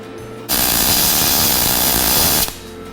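A MIG welder lays a bead on a camper build, a loud, steady sizzling crackle that starts abruptly and runs for about two seconds before cutting off cleanly.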